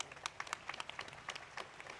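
Scattered applause rises and falls across two seconds, a quiet patter of hands welcoming a guru at a spiritual camp gathering in Kanpur, with no talk over it.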